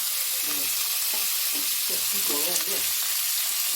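Half a medium onion frying in very hot oil while sea crab is being cooked, a steady close sizzle and crackle with a few scraping stirs, no voices.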